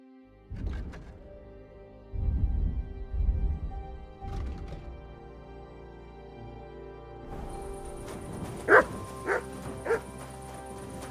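Dog in the medieval Bohemian world of Kingdom Come: Deliverance II, giving a few scattered barks and yips at moderate distance, followed by a busier stretch of game ambience with short sharp accents near the end.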